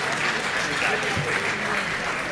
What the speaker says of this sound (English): Let's give panel one another round of applause.